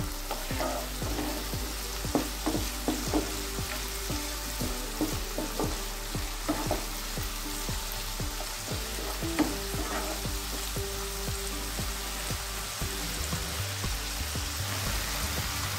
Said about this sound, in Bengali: এটা 1 মিনিট ভেজে নিলাম টমেটো পেঁয়াজ ফোড়নের সঙ্গে।